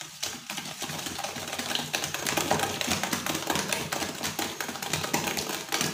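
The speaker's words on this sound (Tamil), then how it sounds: "நல்லா மெரிங் வர வரைக்கும் பீட் பண்ணலாம்." Eggs and caster sugar are beaten into a meringue-like foam for chocolate lava cake, a dense, rapid rattling whir of a mixer that runs continuously and fairly loud with no pauses.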